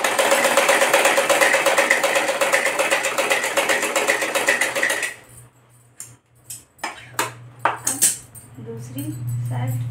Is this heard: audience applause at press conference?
no